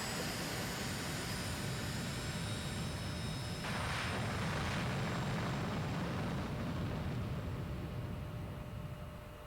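A fighter plane's engine in Ace Combat 04: Shattered Skies roars as a steady, broad jet rush throughout, swelling briefly in the middle, loud and continuous with no talk.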